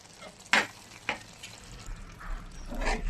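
A spoon stirs chopped coriander into a frying potato and tomato curry in a pan, giving two sharp scraping knocks followed by softer shuffling and a low sizzle, close up with no talking.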